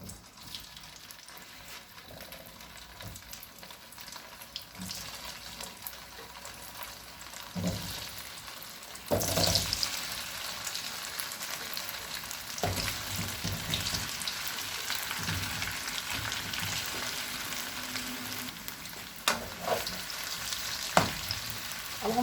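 Cut potatoes fry in a pan of hot cooking oil for aloo chaat, producing a continuous crackling sizzle that swells louder after a few seconds, with occasional stirring clatter and no voices.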